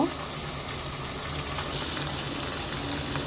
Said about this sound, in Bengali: এখন আমি গরম তেলের মধ্যেই ছেড়ে দিব ম্যারিনেশন করা কই মাছগুলা